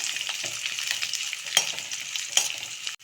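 Onions sauté in a pan for chana masala, a steady close hiss of frying broken by two sharper scraping stirs, loud and continuous with no voices.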